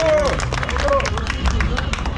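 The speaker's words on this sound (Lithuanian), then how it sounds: "Jūsų aplodismentai USA Cars Kaunas" Scattered applause mixes with crowd chatter and a few raised voices, a busy, noisy room.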